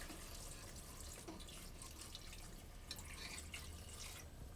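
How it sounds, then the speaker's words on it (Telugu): Half a litre of water is poured into a pot of goat head curry, a faint, steady trickle of running liquid with soft splashes, heard quietly and without talk. "మనం ఈ కూర ఉడకడానికి 1/2 లీటర్ నీళ్ళు వేసుకుంటున్నాము"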